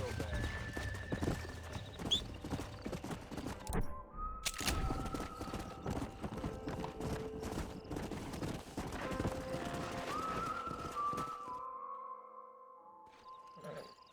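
Horse hooves clip-clop steadily in the Red Dead Redemption video game, mixed with snorts and a whinny under background music and ambient sound; the hoofbeats fade toward the end.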